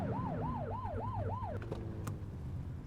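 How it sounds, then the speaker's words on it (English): Police car siren in The Precinct video game, a wailing tone sweeping up and down in five quick cycles, then cutting off, over a steady low engine hum. "Get on their tail and flip the siren."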